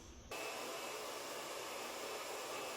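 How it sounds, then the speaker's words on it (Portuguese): A hair dryer blows on freshly dyed red hair, switching on sharply and then running as a loud, steady whoosh close by for a few seconds with no talking. "eu vou passar um secador pra mostrar o resultado pra vocês ainda hoje"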